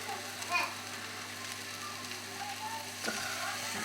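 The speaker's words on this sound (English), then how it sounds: "just going to add in the tin tomato" Tinned tomato going into a pan of caramelized onions over a low flame for chicken curry, giving a soft steady sizzle with faint stirring clatter and a couple of brief louder splashes.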